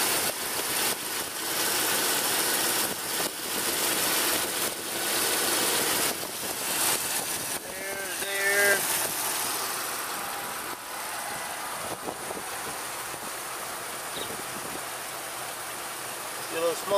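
A 1995 Jeep Cherokee Country 4x4 engine idles steadily in a garage, a low continuous running hum heard close with some faint clatter over it.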